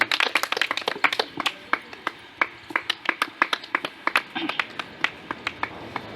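Scattered hand claps from a gathering welcoming a newly named district president at a rally meeting in Saran, Bihar, sharp and uneven, thinning to sparse single claps near the end.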